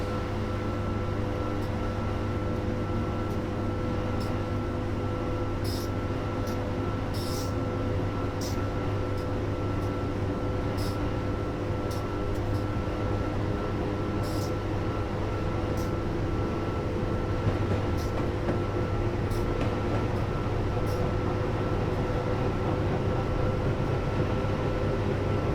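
Continuous low rumble of a train in motion in Train Simulator 2015, with a steady hum and faint periodic clicks, unchanging for a long stretch without speech.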